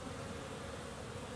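Honeybees in January flying at a beehive entrance on cleansing and orientation flights, a faint steady buzzing hum of many insects with no voices.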